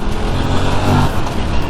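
An Aprilia RS 457 motorcycle is being ridden, with a loud, close, dense engine roar holding steady throughout the short moment and no voices.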